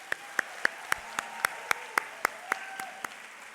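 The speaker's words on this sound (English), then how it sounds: "Give them a round of applause." At a graduation ceremony for a class of 2022 in Nashville, a sparse, evenly paced run of about a dozen distinct claps sounds faint and distant over a quiet room.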